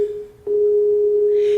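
A steady electronic tone from a Skype call, held as a single continuous pitch with a brief break near the start, sounding clearly with faint background noise and no talk.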